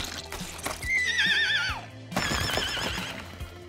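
A horse in the animated series Rick and Morty gives two loud, wavering whinnies, the first long and falling, the second shorter, heard up close over a low background hum with no talking.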